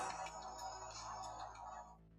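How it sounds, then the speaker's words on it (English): Phone ringtone going off during a live futures-trading session, a bright repeating electronic melody that plays steadily for about two seconds and then stops, with no talking over it. "That's my phone."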